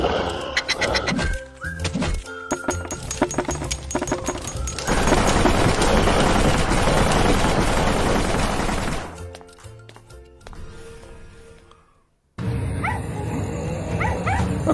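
Puppy whimpering and yipping inside a mobile game advert, heard loud and close over a busy bed of game music and effects.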